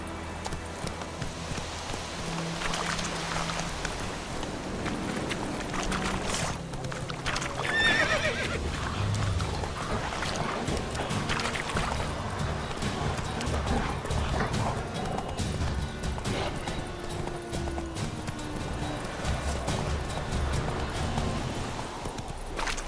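A horse gallops in The Witcher 3 with steady, rhythmic hoofbeats throughout. Rain falls in the background, and a brief whinny rises partway through.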